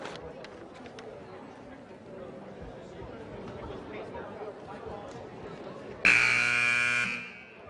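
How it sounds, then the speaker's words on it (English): A loud electronic buzzer blares for about a second and a half at a high school basketball game, cutting through the steady crowd chatter and a commentator's voice in the gym. "That evil buzzer."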